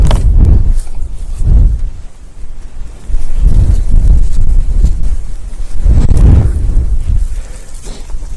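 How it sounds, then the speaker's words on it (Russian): Strong gusting wind beside a small river on a pike-fishing outing, loud low rumbling buffets against the microphone that surge and fade in repeated waves, with no voices. "Несмотря на сильный ветер, который издает шум"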